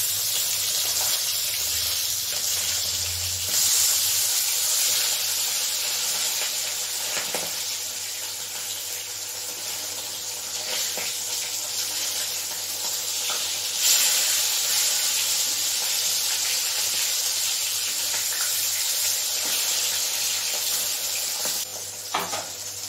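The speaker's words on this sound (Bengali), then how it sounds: "মাছটা এক পিঠ ভালো করে ভাজা হোক।" Rohu fish pieces fry in hot oil in a pan, giving a loud continuous sizzle and hiss that runs unbroken throughout, with occasional brief crackles and pops.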